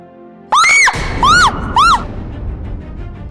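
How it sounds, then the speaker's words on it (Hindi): A woman screams in fright at a snake, three loud, close, wavering shrieks in quick succession, followed by a low rumbling background. "चिल्ला क्यों रही थी?"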